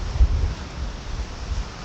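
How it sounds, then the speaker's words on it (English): Strong wind gusts outdoors buffet the microphone, a rumbling, uneven roar with heavier bursts rising and falling across the short stretch, no voices. "wow, amazing wind here today"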